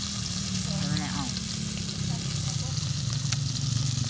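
Pork sautés with ground pepper in a pan, giving a steady, close, low sizzle and crackle throughout, with a brief voice in the background.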